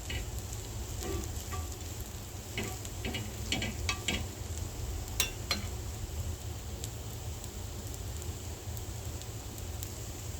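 Podi dosa cooks in a generous amount of oil on a pan, giving a steady, quiet sizzle with occasional small crackles and pops across about ten seconds.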